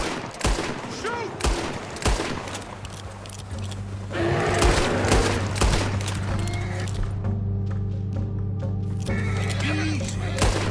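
Several gunshots ring out in Red Dead Redemption 2 as a bear is fired upon during a hunt, sharp repeated cracks mixed with a horse's whinny, game music and character voices talking.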